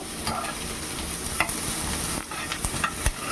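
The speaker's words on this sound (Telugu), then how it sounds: "ఈ ఆనియన్స్ని కూడా ఫ్రై చేసుకోవాలి పచ్చివాసన పోయే వరకు" Onions frying in a pan for Hyderabadi bagara baingan give off a steady close sizzle with stirring scrapes and a few light taps, with no talking.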